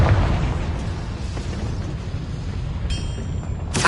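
A Confringo spell blast from the video game Hogwarts Legacy bursts out with a loud boom, followed by a rumbling tail and a bright magical shimmer near the end.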